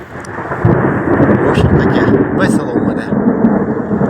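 Thunderstorm over the Colorado River in Argentina: a steady, loud roar of wind and rumbling thunder fills the whole stretch, with brief sharper crackles on top, recorded outdoors on the riverbank.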